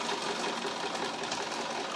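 A sewing machine stitches along the edge of a fabric tote bag, running at a fast, even pace with a continuous close mechanical whir and rapid needle clatter, heard alone without talk.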